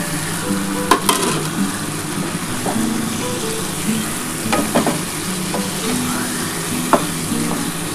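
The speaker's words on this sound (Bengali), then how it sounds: "এবারে এই খাসির মাংসটা দিয়ে দিলাম।" Mutton goes into a pan of frying spices for a thin curry with papaya and potato, giving a steady, close sizzle with scraping stirs and occasional knocks of the spoon against the pan.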